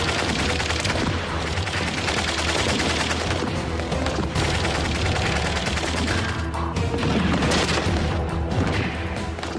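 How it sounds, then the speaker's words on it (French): A fierce battle with gunfire and explosions rages continuously, dense crackling shots and bursts with heavier booms, loud and unbroken, no voices. "Le bruit des combats féroces parvient jusqu'à la garnison."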